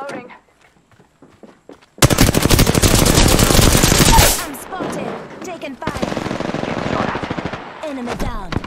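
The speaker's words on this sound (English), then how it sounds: "I'm getting shot at." Rapid automatic gunfire in the Apex Legends battle royale game, from an R-301 and R-99 loadout, erupting in dense bursts after a quiet start, with a second volley of shots following a brief lull.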